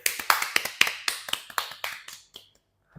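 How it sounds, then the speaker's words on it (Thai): Hands clap in a quick run of sharp, bright claps, about a dozen close together, slowing toward the end and stopping, heard up close with no talking. "ปรบมือก่อนเลย"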